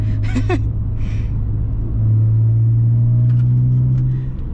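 A BMW E46 with its muffler deleted drones at light throttle around 2,000 RPM, a loud, steady low hum that deepens and swells midway and holds for several seconds with no talk.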